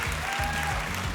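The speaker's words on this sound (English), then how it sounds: "Give these guys a round of applause." A live audience at a married-couples event bursts into steady, dense applause, close and continuous for a brief moment.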